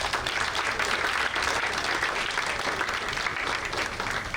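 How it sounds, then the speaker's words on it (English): An audience at an awards induction ceremony gives sustained applause for an honoree. Many hands clap together in a continuous, even roar that stays steady from start to finish, heard alone with no talk. "Round of applause for him."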